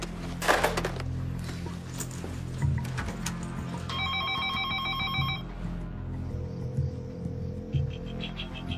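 An outgoing call to a mobile phone rings through, giving a steady electronic ringing tone in the middle over a low room hum with some clatter around it.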